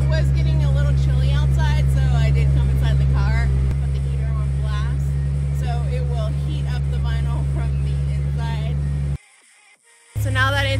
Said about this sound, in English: you can still hear my car running because I still have it going